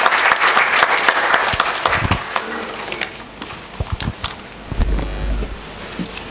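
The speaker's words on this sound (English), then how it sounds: "Let's welcome him with a big round of applause" A big round of applause from a conference audience welcoming a speaker at a tax conclave inaugural session, loud dense clapping at first that thins into scattered claps, with some thumps and low rumbling toward the end.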